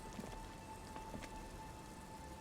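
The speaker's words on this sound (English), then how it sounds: "It's getting late, and it's raining." Rain in the video game Disco Elysium, a faint, soft patter of drops on surfaces with a low steady hum beneath, quiet and unbroken throughout.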